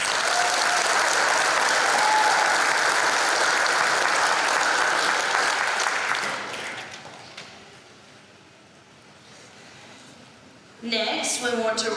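Graduation audience applauding at a high school commencement ceremony, a loud sustained wash of clapping that fades to quieter murmur after about seven seconds before a voice cuts in near the end.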